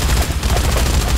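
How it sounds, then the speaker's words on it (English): Minigun fire in the zombie game Dead Rising 3, a dense continuous roar of rapid shots, loud and close throughout with no pause. "How you like my minigun?"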